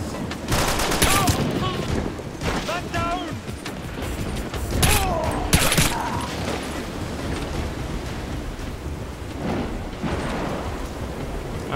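Bursts of gunfire in The Bourne Conspiracy video game, several sharp loud shots and volleys scattered over a rumbling action backdrop, with brief voices in between.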